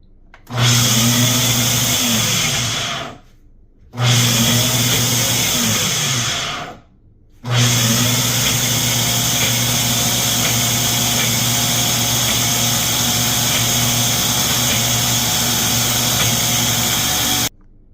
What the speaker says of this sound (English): Let's get this blended up first.